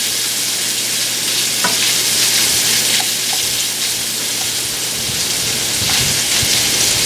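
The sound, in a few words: cabbage and noodles with smoked sausage cooking, stirred in pan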